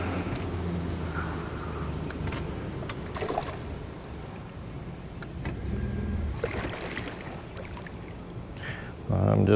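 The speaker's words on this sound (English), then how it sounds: "I'll wait for this boat to go by." A boat motor rumbles steadily as it passes over an open lake, a low drone with splashing water noise that swells again near the end.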